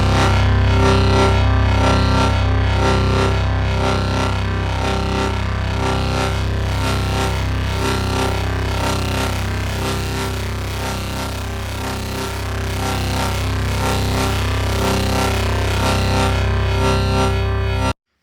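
An ASM Hydrasynth synthesizer plays a dense, harsh sustained tone through a distortion effect, with a brittle, industrial, lo-fi buzz that stays loud and steady throughout, alone without talk.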